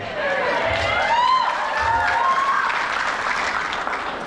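An audience at the grand opening of Phoenix Theatres Patriot Place breaks into strong applause mixed with whistles and cheers, a close, lively burst of clapping that stays loud for a few seconds.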